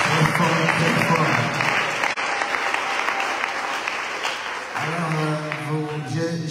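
Loud, sustained applause from a church meeting audience fills the whole stretch, dense clapping with cheering voices and a tonal voice rising near the end.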